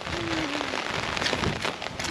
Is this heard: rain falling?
yes